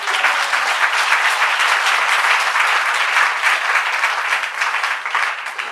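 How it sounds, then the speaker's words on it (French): A congregation at a church service breaks into sustained, dense applause that stays loud and even throughout with no pauses, acclaiming the Lord. "Est-ce que tu peux acclamer le Seigneur?"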